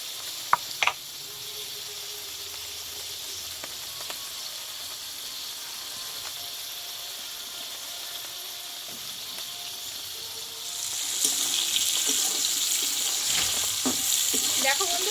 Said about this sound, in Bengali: ধীরে ধীরে পটলটা দেখো কি সুন্দর কষানো হয়ে গেছে